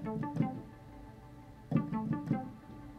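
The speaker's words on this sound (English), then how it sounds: "I've got a synth, and it's real, almost like a plucking sound." A synth pluck patch played on a keyboard, short plucked notes in two brief clusters separated by a pause, fairly quiet and alone.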